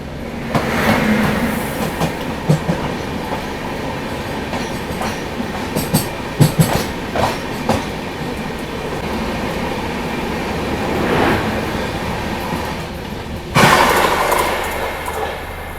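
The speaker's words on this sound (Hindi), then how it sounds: "लो भाई साहब, बगल से कोई ट्रेन ओवरटेक मार गई।" Another train passes close alongside a stationary passenger train held outside Jaipur, its wheels clattering in a steady rolling rush with rhythmic clicks and a louder burst near the end, heard from inside the coach without talk.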